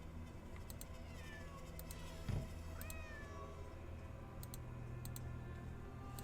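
A cat meows twice in the Nancy Drew game Secret of the Old Clock, rising calls a moment apart over a steady room hum with faint clicks and a soft thump.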